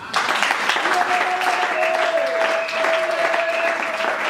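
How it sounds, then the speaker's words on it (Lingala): A church congregation claps together in praise of Jesus, steady applause filling the room from start to finish with a faint sustained tone running beneath it. "Acclamons Jésus."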